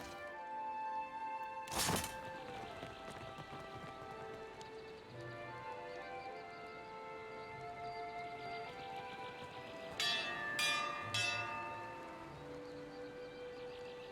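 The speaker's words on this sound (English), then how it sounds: "Who's rung the bell and why?" A large bell rings out in Pillars of Eternity 2, one loud clanging strike early on, then a quick cluster of three more, each leaving long ringing overtones that fade slowly.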